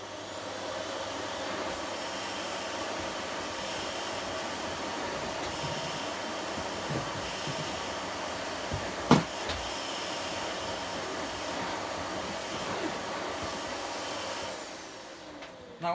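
A SEBO Airbelt D2 Storm vacuum cleaner, a 1200 watt model fitted with hose and floor head, runs on its low power setting, giving a steady, moderate whooshing hum that holds evenly throughout, with one brief knock near the middle.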